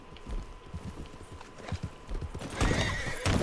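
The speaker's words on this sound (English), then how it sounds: "Oh my gosh, horse." A horse in Red Dead Redemption 2 clip-clops along with steady hoofbeats and then lets out a loud, close whinny near the end.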